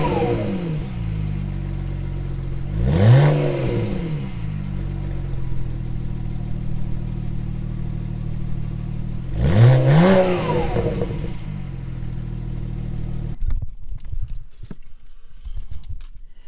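BMW 335i with a newly installed downpipe, revved twice from idle in short sharp bursts, the exhaust rising and falling each time over a steady low idle, heard from inside the car.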